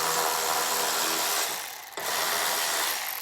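A ratchet with a 10mm socket loosening the gas tank bolts on a Craftsman snow thrower: rapid, dense clicking pawl sound, close and fairly loud, briefly dipping and pausing near the middle before resuming.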